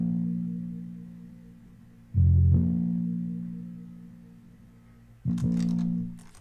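A gritty, bit-crushed bass sample with the flute removed and the low end boosted, giving deep, distorted sustained bass notes that swell in, decay slowly, then strike again near the end, with nothing else playing.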